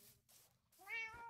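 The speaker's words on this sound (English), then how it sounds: "The cat likes to have more fish, but no, you already got a whole salmon just for yourself." A cat gives one short, close meow asking for more fish, rising toward its end in a quiet room.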